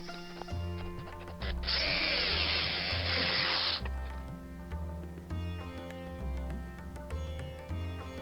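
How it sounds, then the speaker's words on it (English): A power drill whirs steadily up close while drilling and tapping a diecast Corgi Green Hornet Black Beauty model, with a low motor drone, a louder high-pitched stretch midway, and rhythmic pulsing throughout. "at this point, we're drilling and tapping"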